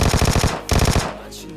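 Vector submachine gun firing in a shooter video game, two rapid close bursts of loud automatic shots separated by a brief pause, with a short trailing echo after the second burst and no talk.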